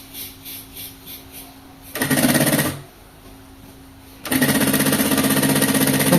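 Sewing machine stitches fabric pieces in two loud, fast bursts of rapid mechanical clatter, a short run then a longer one, separated by quieter pauses with faint handling noise.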